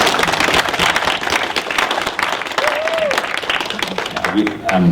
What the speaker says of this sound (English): could we do a little round of applause for these three amazing students?